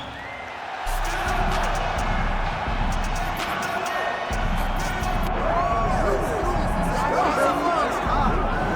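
A steady crowd roar fills an arena in a UFC video game on PS5, continuous and loud, with cheers swelling and whoops rising toward the end.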